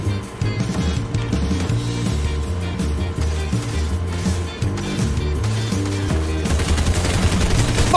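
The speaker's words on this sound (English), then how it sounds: "Holy shit, I'm getting shot at" Gunfire rattles in a Fortnite match, bursts of shots over a droning game soundscape with steady engine-like tones, fairly loud and continuous for several seconds with no talk over it.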